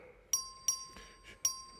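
A voting bell in a state House chamber rings in three short, evenly spaced bright strikes over quiet room noise.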